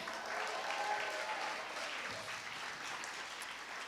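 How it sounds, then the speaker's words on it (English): A faint, distant round of applause from the audience at a casual evening event where people share stories of their failures, a soft continuous patter of clapping with no speech. "Can we give a round of applause to these people right here?"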